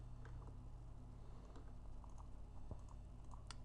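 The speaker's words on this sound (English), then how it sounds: "I will remove this loop with the control backspace." Computer keyboard being typed on, with a control-backspace key combination pressed during 3D modeling work; light, sparse keystroke clicks at close range over a steady background hum.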